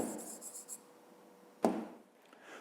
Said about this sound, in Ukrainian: Я напишу коротко, ви можете писати повністю.